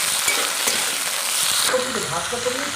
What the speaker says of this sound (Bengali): ভাজা ভাজা করে নেব